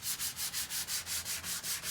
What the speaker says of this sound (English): he filled in these front holes and then sanding them down smooth